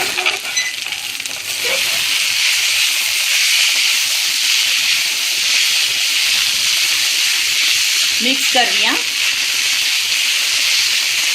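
Steam hisses steadily from a pan of cabbage stirred with a sugar-free mix, a loud, continuous broadband sizzle that runs the whole time, with a brief spoken remark near the end.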